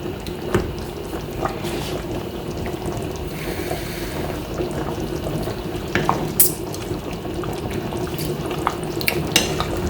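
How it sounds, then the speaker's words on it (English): Yam porridge simmering in a pot, a soft continuous bubbling hiss with scattered small pops and clinks, close and moderately loud with no talk. "You can see the yam is boiling."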